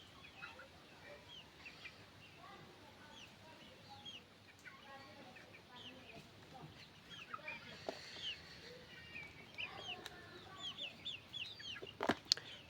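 Free-range native chickens cluck and chatter around feeding time on a small farm, with several birds calling at once in a busy, moderately close flock and a few sharper squawks near the end.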